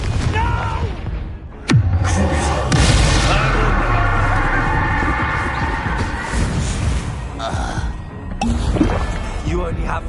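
Confringo spell blasts in Hogwarts Legacy: a sharp crack followed by heavy, booming explosive bursts and crashing debris under dense combat noise, loud and close, with continuous voices heard over the chaos.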